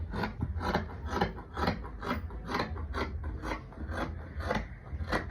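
Fabric being trimmed with scissors while cutting a flared dress with a flounce sleeve, giving a steady series of rasping snips about twice a second, close and fairly loud, with no talking.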